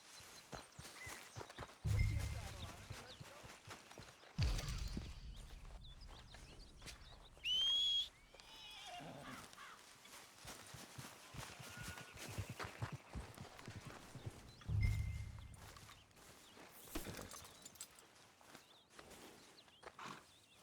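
Horse hooves clip-clop at a steady walking pace in Red Dead Redemption 2, soft and close, with occasional heavier thuds and faint birdsong in the open-air background.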